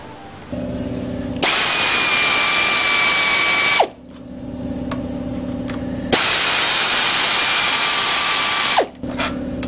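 A power tool backs out the perimeter bolts on a Briggs 9 hp engine cover in two loud whirring bursts, each a few seconds long, with a brief pause between.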